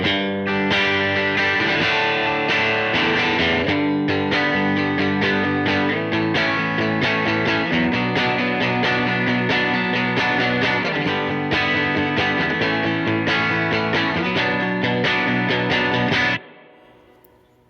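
Electric guitar through an edge-of-breakup amp tone with a D250 DoD-style preamp modeled in Genome, with reverb: strummed chords and picked notes ring out steadily with slight grit for about sixteen seconds, then decay away.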